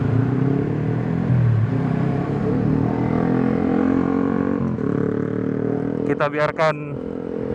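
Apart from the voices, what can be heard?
motorcycle with racing exhaust passing by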